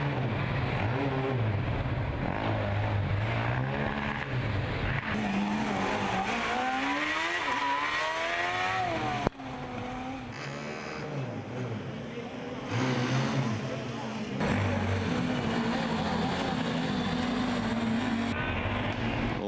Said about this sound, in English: All sorts of pops and bangs coming from the Oxford Brooks exhaust.